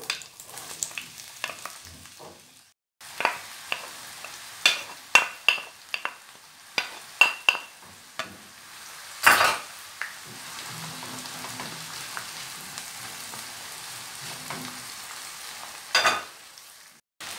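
Onion added to about half a glass of hot oil in a frying pan, giving bursts of crackling sizzle and clatter, then a softer, steady frying hiss, fairly close and unaccompanied by talk.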